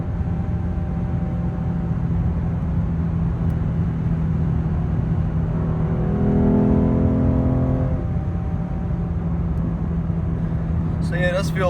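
A 2017 Lexus IS 350 with an RR Racing tune drones steadily from inside the cabin, its engine note swelling briefly louder midway as it pulls harder, then settling back to a constant hum.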